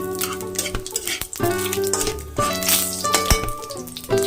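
Cut potatoes fry in hot oil with a busy sizzle, punctuated by stirring and the clink of a pan, with no talking.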